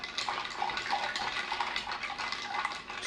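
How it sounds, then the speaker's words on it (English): A Manhattan cocktail is stirred vigorously, giving faint, rapid, continuous clinking and swishing at close range. "You stir vigorously."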